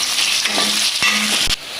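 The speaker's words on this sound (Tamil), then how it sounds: "இதை பொரிச்சு எடுப்போம். இப்போ பாருங்கள், லைட்டாக பொரிஞ்சிட்டுது" Chicken sausages fry in oil, sizzling and crackling steadily in a pan, with a couple of faint knocks from stirring partway through.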